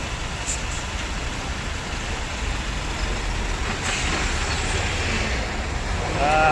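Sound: truck moving forward in the queue at the Maharashtra border

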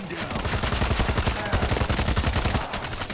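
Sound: gunfire in the video game World War Z Aftermath

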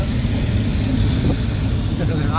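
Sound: tractor engine on the Mumbai-Goa highway

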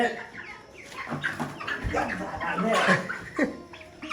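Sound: chicken clucking while being caught

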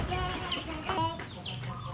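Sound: live chicken clucking

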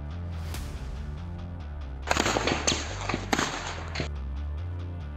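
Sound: rapid gunfire during an army encounter

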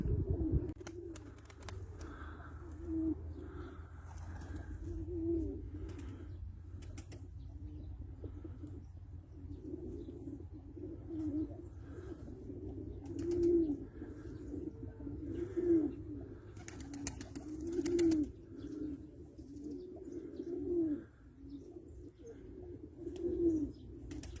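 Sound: pigeons cooing in a loft

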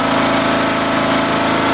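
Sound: small engine revving high

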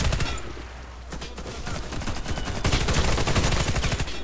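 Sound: gunfire in a video game

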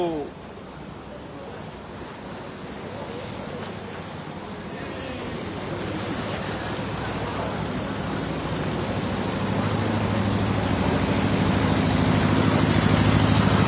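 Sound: motorcycle engine riding through deep floodwater

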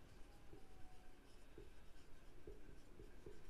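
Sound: writing with a pen on paper

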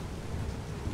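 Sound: rain falling in ARK Survival Evolved video game

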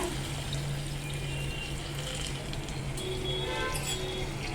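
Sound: water being poured into fish curry

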